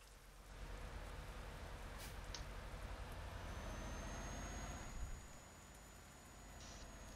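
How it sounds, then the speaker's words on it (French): Steady rain hiss in Euro Truck Simulator 2 drives a heavy truck with a 55-tonne load up a hill. A constant broadband wash sits over a low engine drone and stays fairly quiet throughout, with no voices. "Ouais, la pluie, elle aide pas du tout là."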